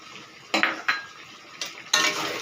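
Chicken curry being stirred in a metal pot, a spoon scraping and clanking against the metal in four distinct bursts over a low background hiss, close and fairly loud with no talking.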